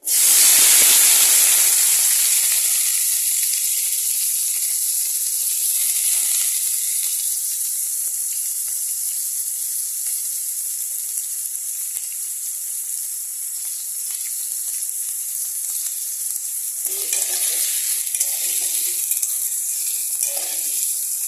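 Potatoes and drumstick stalks fry with nigella seeds in a wok with a loud, steady sizzle that softens slightly, then stirring scrapes break in near the end.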